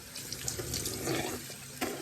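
Warm tap water running into a bathroom sink for face washing, a steady hissing splash with small bursts as hands dip into the stream.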